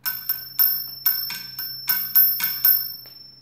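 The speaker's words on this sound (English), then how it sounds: "Rings the bell." Bright metallic bell strikes on a 1930s Tiger pinwheel mechanical calculator ring out nine times in an uneven rhythm, each one close and clear with a short ringing decay, alone in a quiet room.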